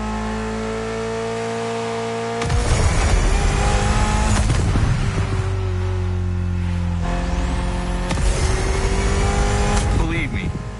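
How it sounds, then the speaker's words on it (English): A Mitsubishi inline four-cylinder rated at 280 horsepower, driven in The Crew Motorfest, revs loud and close in two hard bursts after a steady idle, with someone talking over it. "Mitsubishi gave us a nice inline four-cylinder with already 280 horsepower."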